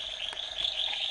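Frogs call in an Atlantic Forest (Mata Atlântica) field recording, a dense, continuous high-pitched chorus of trills at moderate volume, heard alone without voices.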